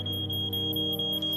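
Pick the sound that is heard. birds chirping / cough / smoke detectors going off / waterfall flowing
smoke detectors going off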